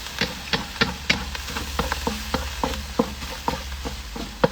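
Food browning in a frying pan hisses with a low continuous sizzle. A utensil stirs it in regular scraping taps, about two or three per second, close and moderately loud, with no talk.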